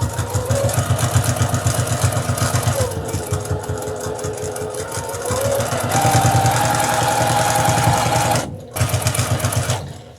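A domestic sewing machine runs a back stitch and then sews steadily around the edge of a Halloween table runner made from cotton fat quarters, its rapid mechanical chatter close and loud, with a brief pause near the end.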